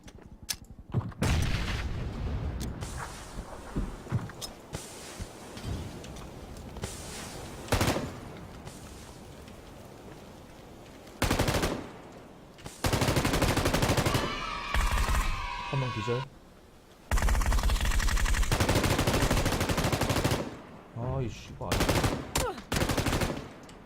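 Bursts of M249 machine gun fire in a battle royale video game, loud clattering strings of rapid shots broken by pauses and single pops, with voices talking over parts of the action.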